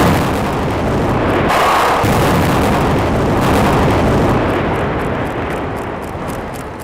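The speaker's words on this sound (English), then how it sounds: "starting from the far end of the bridge, the real explosions marched down the line" Demolition blasting charges go off in sequence along a bridge during an urban demolition in Ohio, heard as a loud, sustained rumble of overlapping booms that gradually fades toward the end.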